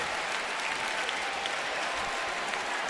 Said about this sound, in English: Fans about to give him a second standing ovation.